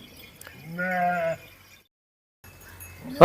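A single sheep bleats once clearly and close, a wavering nasal call, followed by a short silence and faint rustling.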